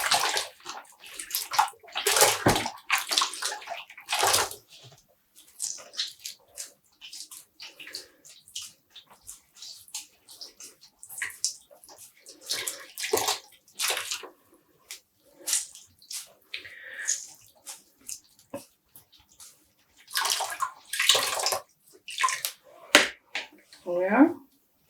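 A dyed yarn skein is rinsed in a basin of water, with repeated close splashes and sloshing in irregular bursts separated by short quiet gaps.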